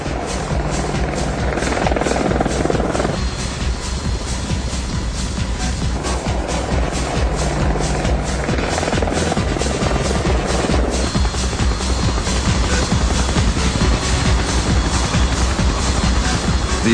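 An AH-64 Apache Longbow attack helicopter flies past with loud, continuous rotor thumping and turbine whine, the pulsing blade chop steady and dominant throughout.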